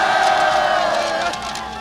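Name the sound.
crowd cheering and shouting thanks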